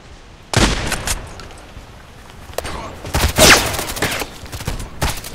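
Pump shotgun fire in the shooter game Contract Wars, several sharp, loud blasts spaced irregularly close by, with echoing gunfire and a brief voice mixed in.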